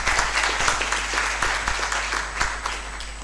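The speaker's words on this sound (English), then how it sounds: "Another big round of applause for Doctor." Seminar audience applauding a presenter, a dense, steady wash of many hands clapping at close range that keeps going without a break.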